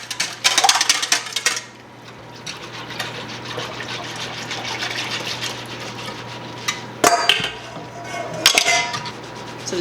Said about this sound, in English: So then just whisk this.